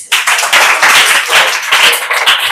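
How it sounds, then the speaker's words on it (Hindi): Children in a classroom clap loudly and steadily for a classmate's correct answer, a dense, sustained burst of many hands close by, with no talking over it. "जोरदार ताली बजा दीजिए।"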